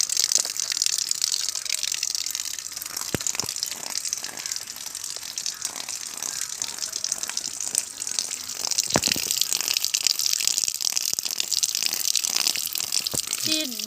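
Oysters, already shucked, are rinsed by hand under a running tap, giving a steady broadband gush of water with occasional clinks and sloshes, close and continuous with no talking.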